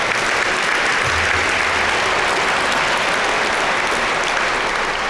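An audience of business leaders at an awards event claps in steady, dense applause, loud and sustained throughout with no pauses.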